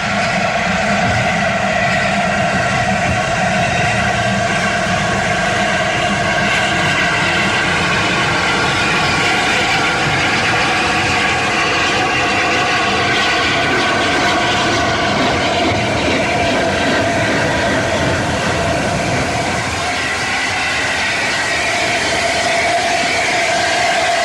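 LNER A4 steam locomotive Mallard with its corridor tender backing onto its train, a sustained loud mechanical rumble with tonal hum and rail clatter that shifts and drops near the end.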